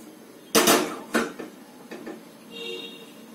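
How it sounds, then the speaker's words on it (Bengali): A metal kadai (wok) is set down on a kitchen stove before cooking a Bengali prawn curry, giving two sharp metallic clanks close up, then a few lighter knocks and a faint hum, with no talking. "দেখো কড়া বসিয়ে দিয়েছি"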